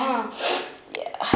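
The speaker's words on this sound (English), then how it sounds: "You just snorted a lot" A kid gives a sharp, breathy snort through the nose, a short noisy burst that is quickly followed by brief spoken words.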